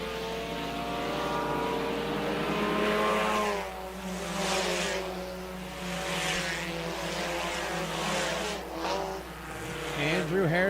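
Stock cars racing at speed on a dirt speedway under green flag, engines roaring and rising and falling as the pack passes, with a commentator speaking over the steady loud engine noise.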